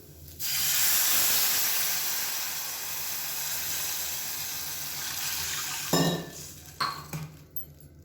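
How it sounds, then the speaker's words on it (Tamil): Two cups of water pour into a pressure cooker holding sago for payasam, a loud, steady close-up rush lasting about five and a half seconds, then a few sharp metallic clinks of the vessel as it ends, with no talking. "இப்போ எந்த கப்பில் நம்ம வந்து ஜவ்வரிசி இழந்தோமோ அதே கப்பில் 2 கப் அளவுக்கு தண்ணி சேர்த்துக்கலாம்."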